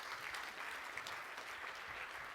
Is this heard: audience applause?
yes